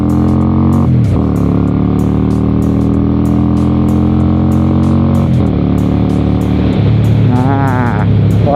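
A 1992 Honda Shadow 400 cruiser motorcycle being ridden gives a loud, close engine rumble that climbs through the gears, with brief dips at the shifts and a rising rev near the end.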